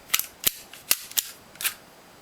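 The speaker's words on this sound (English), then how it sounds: "then we can do a test fire" Kimber Desert Warrior airsoft pistol firing five sharp, close shots in an uneven rhythm, each a bright crack with a quick decay and brief quiet gaps between, no talking.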